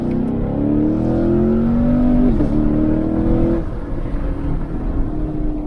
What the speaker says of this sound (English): I'm not sure if you can hear the exhaust over the wind noise with this camera, but it sounds phenomenal.